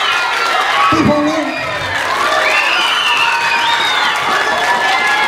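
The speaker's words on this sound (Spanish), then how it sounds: "Si usted considera que la gran final de este cuarto bloque se va Britanny, póngale el aplauso." Audience at a Mojiganga festival event in Tepalcingo clapping and cheering loudly for a contestant named Britanny, a steady dense roar of applause with shouts and voices mixed in throughout.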